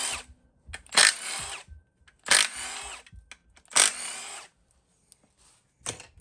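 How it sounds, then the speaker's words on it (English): A power tool spins the oil pan bolts out from the bottom of a Ford 5.4 Triton V8 during an engine teardown, with three loud whirring bursts about a second long each, short pauses between them and a brief final burst. "Now let's get our 4 oil pan bolts off the bottom."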